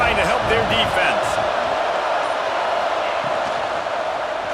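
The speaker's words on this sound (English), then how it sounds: "Listen to this crowd just shaking the girders of this place trying to help their defense." Dense stadium crowd roar in EA Sports College Football 26, a steady broad wash of cheering and noise filling the whole clip at constant loudness, with faint bits of voice mixed in.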